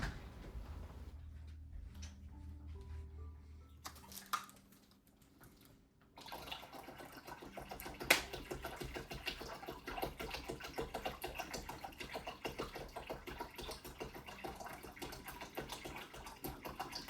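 Water pours steadily into the 5-liter reservoir of a Suncoze ID1001 indoor garden, a continuous trickling wash with a brief quieter gap and a small knock partway through.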